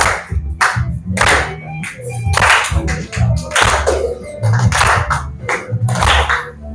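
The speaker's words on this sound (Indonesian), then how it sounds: "Boleh sambil tepuk tangan" An audience claps along in rhythm to a song being sung, with sharp, regular hand claps in repeated bursts over a low, steady musical backing.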